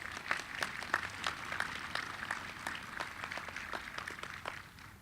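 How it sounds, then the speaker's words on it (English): A college graduation crowd at BRCC applauds the vocalist, interpreter and student honor marshals, with fairly quiet, somewhat distant clapping and scattered distinct claps over a continuous patter. "Let's also give them a round of applause."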